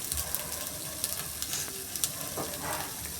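Vegetable appe frying in an appe pan just after being flipped, a close, steady sizzle with soft crackles and pops over a low hiss, with no talking.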